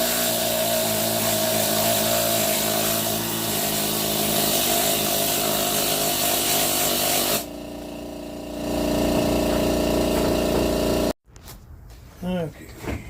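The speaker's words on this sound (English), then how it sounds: "The needle scaler is a pneumatic tool used for removing slag" A pneumatic needle scaler works a 100-lb piece of petrified wood, giving a loud, dense buzzing clatter that holds steady for several seconds, briefly dips, then resumes. It cuts off abruptly, and a voice is heard afterward.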